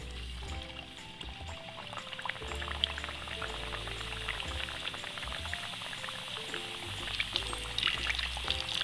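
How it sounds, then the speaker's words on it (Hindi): Samosas deep-frying in hot oil, giving a steady bubbling crackle that runs the whole time at an even, moderate level, with a low continuous tonal hum underneath. "चलिए अब इसे फ्राई करते हैं।"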